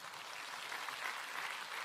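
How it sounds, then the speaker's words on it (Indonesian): Faint, dense crowd applause from an audience at a talk, an even hiss of many hands clapping for about two seconds with no speech over it. "Tepuk tangan untuk Indonesia."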